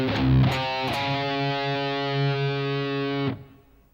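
A distorted electric guitar plays the second measure of the riff: two quick palm-muted hits, then a long ringing note held for about two seconds, loud and clean, before it cuts off.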